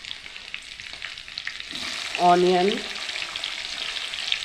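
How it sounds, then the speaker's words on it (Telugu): Garam masala spices crackle and sizzle in a few spoons of hot oil in a kadai, a soft continuous hiss. A short tonal whine rises briefly partway through. "అదే కళాయిలో 4 టేబుల్ స్పూన్ ఆయిల్ వేసుకుని గరం మసాలా స్పైసెస్ వేసుకోవాలి."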